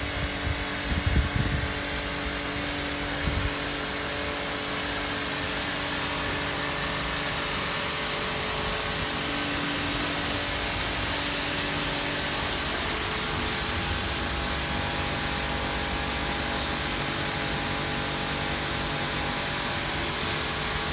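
A pressure washer blasts a motorbike and rider's Rukka GORE-TEX jacket from the front, giving a steady, loud broadband hiss of spray that runs without a break for about twenty seconds, with a few brief knocks near the start.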